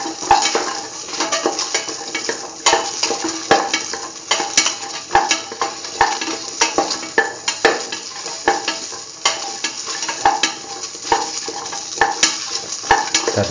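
A curried green tomato mix sautés in a pan with a steady, loud sizzle, while a spoon stirs and scrapes against the metal in a continuous close rhythm.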